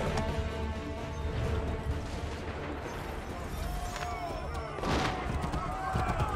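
Musket volley gunfire in Assassin's Creed III, a dense rumbling barrage of overlapping shots with a sharper burst near the end, mixed with battlefield noise and voices.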